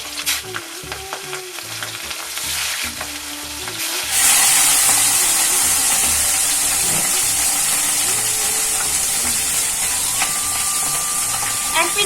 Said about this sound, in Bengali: মাছ ভাজার জন্য তেলটা খুবই গরম করতে হবে